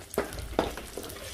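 Curry leaves frying in hot oil in a pan and being stirred, giving a steady close sizzle broken by three distinct scraping stir strokes, with no talking.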